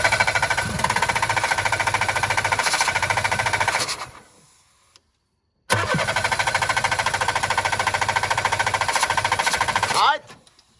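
A Peugeot 205 Roland Garros engine cranks with the accelerator floored, a loud rapid rhythmic chugging that stops abruptly, falls silent, then resumes before cutting out, close by.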